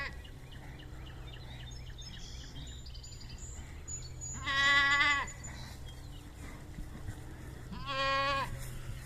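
Goats bleating near a pen of yearling bulls, two loud nearby bleats a few seconds apart over a low steady hum, with faint bird calls earlier.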